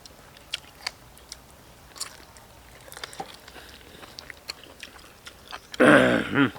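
Someone chews crispy fried pork tail with a series of irregular close crunchy bites and soft mouth clicks, ending in a louder, dense crunch near the end, with no talking.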